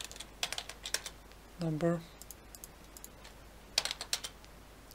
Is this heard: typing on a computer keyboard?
yes